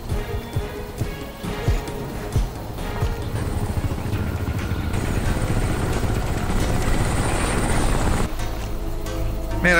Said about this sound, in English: every time I zoom in with the binoculars, it sounds like fucking helicopters over top of me